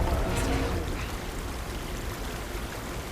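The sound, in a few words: water pouring out of a tank in the video game Horizon Forbidden West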